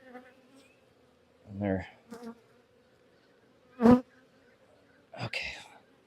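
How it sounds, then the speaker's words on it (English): Honeybees buzz steadily inside a crowded Vevor starter-kit beehive, a close continuous drone under short bursts of quiet talk and a few handling knocks. "There's a lot of bees in here."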